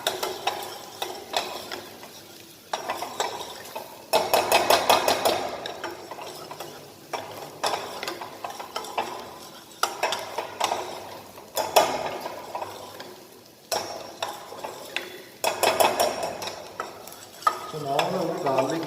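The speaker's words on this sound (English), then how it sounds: "So now the garlic and onion is caramelized" Garlic and onion are stirred in a frying pan, with the scrape and clatter of a utensil coming in repeated bursts over a faint, steady sizzle, close and fairly loud.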